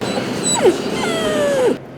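Service dog puppies starting training whimper and yip in short, high, sliding cries, one brief whine followed by a longer falling whimper, close and clear over a soft steady background.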